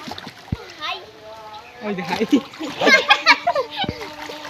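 Water splashing in an outdoor pond or river as a child learns to swim and ducks under, with children's voices and adult talk over the irregular splashes.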